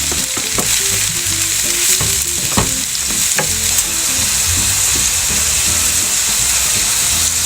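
Funghi mushrooms fry in a pan, making a loud continuous sizzle and hiss with repeated clacks and scrapes of stirring early on, then a steadier frying roar, with faint music underneath.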